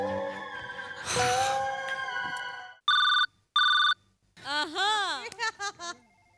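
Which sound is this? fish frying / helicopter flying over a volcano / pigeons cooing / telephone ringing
telephone ringing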